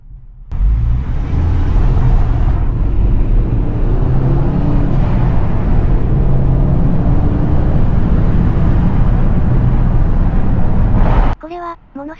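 Hard acceleration from a Subaru WRX S4 sedan with a turbocharged engine of nearly 300 horsepower, a loud, sustained, steady roar that builds and holds for about eleven seconds, then cuts off abruptly.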